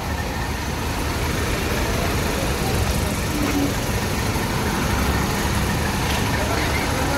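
A Harapan Jaya bus engine idles with a low, steady exhaust rumble nearby, while voices talk around it.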